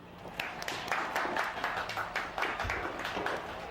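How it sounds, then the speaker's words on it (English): A studio audience applauds at a talk show, a steady spread of many claps at moderate distance lasting several seconds, fairly soft overall, with a faint voice or two underneath. "We are going to, yes, applaud"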